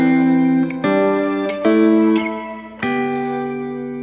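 Sustained guitar chords through a shimmer reverb effect ring out with a bright, lush reverb tail that blooms and shimmers over each new strum, played alone with no voices.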